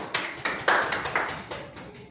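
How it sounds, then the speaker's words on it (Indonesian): Hand claps, about eight single sharp strikes in a fairly regular rhythm over two seconds, close and distinct with a short room decay after each. "Oke, betul ya, tepuk tangan."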